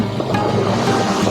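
A Sea-Doo personal watercraft rumbles on the water near Parry Sound, a steady low engine drone mixed with wash and wind for a brief moment.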